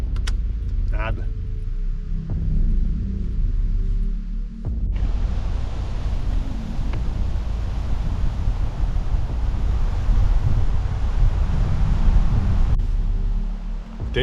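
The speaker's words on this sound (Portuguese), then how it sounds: "Foi de um solzinho gostoso da tarde, uma ventania e um pouco de chuva agora." Gusty wind roars and buffets outdoors at a campsite during a sudden change of weather, a constant loud rushing under a person speaking.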